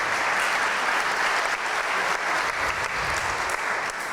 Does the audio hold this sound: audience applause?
yes